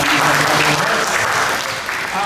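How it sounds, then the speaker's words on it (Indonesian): Loud, sustained applause from a seminar audience at a church training event, many hands clapping densely and evenly, with voices mixed in beneath. "sekarang kita berikan tepuk tangan dulu kepada"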